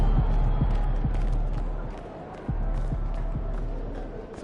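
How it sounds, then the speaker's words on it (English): A basketball arena crowd in the NBA 2K25 video game roars loudly and steadily, a dense wash of cheering with faint ball bounces and sneaker squeaks underneath. "Surprisingly loud crowd tonight."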